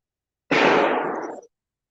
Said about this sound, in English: Listen, that's real gunshots, not fireworks